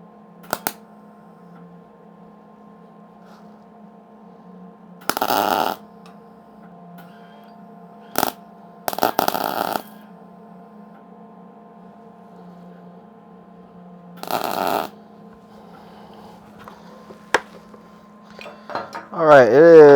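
A welder lays a series of short tack welds on a small steel radio mount, each one a brief crackling burst separated by quiet gaps with a steady low background hum.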